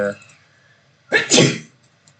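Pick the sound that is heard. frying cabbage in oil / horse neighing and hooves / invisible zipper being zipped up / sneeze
sneeze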